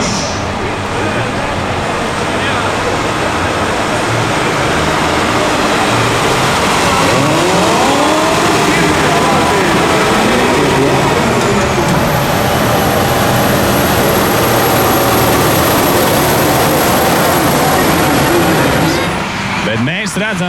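Big Claas and Case tractors in the over-400-horsepower class, each hauling an 18-tonne trailer, roar together at a drag race start, engines droning steadily and loud for the whole stretch, with crowd noise and a commentator's voice mixed into the din.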